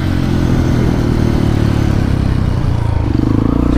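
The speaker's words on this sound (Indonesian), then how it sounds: "1 2 pencet kupling, buka gas." A standard Honda CRF motorcycle engine revs loud and close as the throttle opens, a steady buzzing roar that holds and rises slightly toward the end, with no voices over it.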